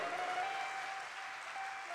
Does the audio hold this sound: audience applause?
yes